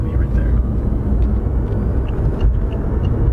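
A 2016 BMW i8's engine roars steadily with a deep, dense rumble, loud and close from inside the car, with a voice faintly audible under the engine noise.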